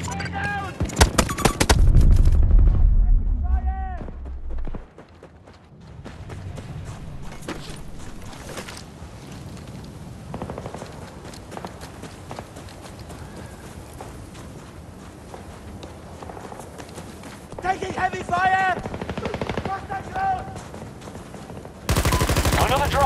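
Heavy gunfire in Battlefield 2042 combat, a loud opening burst followed by fainter scattered shots and bursts in the distance, with in-game voice chatter over it.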